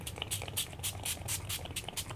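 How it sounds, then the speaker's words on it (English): Shiny spray hisses onto an altered artists' book in short, rapid bursts, roughly eight quick sprays in two seconds, close and fairly soft with no talking. "I'm going to spray some shiny stuff on it, too."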